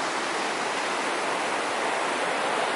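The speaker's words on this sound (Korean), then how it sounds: "자, 미케비치입니다. 미케비치." Broad steady wash of surf rolling onto My Khe Beach in Da Nang, a continuous hissing roar heard from some distance with no distinct breaks between waves.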